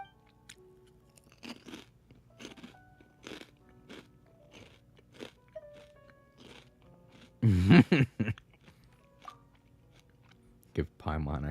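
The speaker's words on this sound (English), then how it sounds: "Pork rinds are great. I know they're not good for me, but I eat them whenever I want something." Someone bites and chews crunchy pork rinds close to the mic, with soft crunches scattered through the clip and a few louder crackling bites near the end.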